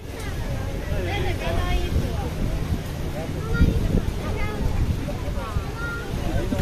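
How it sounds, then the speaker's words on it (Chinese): Strong wind buffets the microphone outdoors beside a lake, a steady low roar running through the whole stretch while people talk over it. "今天风很大"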